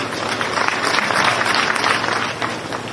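Audience applause welcoming dignitaries at a floral tribute ceremony for the birth anniversary of Peshwa Bajirao I, a steady, dense clapping from a crowd that holds throughout, fairly loud and close.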